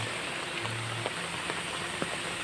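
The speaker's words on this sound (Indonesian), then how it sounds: "Di sini suasana mungkin lagi pas turun hujan ya." Afternoon rain pours over Kampung Putrajawa in Selaawi, Garut, a constant even hiss of drops striking surfaces with a few sharper individual splashes, heard alone without any talking.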